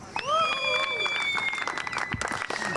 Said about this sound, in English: he gets a great round of applause from the crowd down below